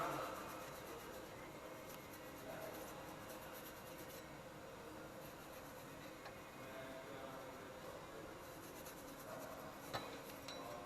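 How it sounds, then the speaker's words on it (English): Brake parts being scrubbed with cleaner: a steady, close, rasping scrub that runs the whole time, with slight swells and one sharp tick near the end. "One more scrub."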